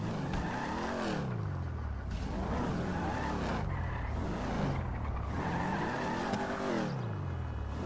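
A car in the GTA video game revving and sliding in repeated sweeping engine swells with tire squeal, loud and continuous, cycling roughly every one to two seconds.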